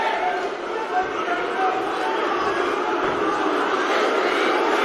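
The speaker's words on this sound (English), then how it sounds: "The crowd is cheering for Luf." A crowd roars and cheers continuously at a live fight night in Manchester, a dense wash of voices under an excited commentator.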